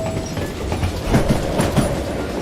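A train in the Western game Call of Juarez: Gunslinger rumbles steadily, with wheels clacking rhythmically over rail joints beneath a continuous roar of rolling carriages.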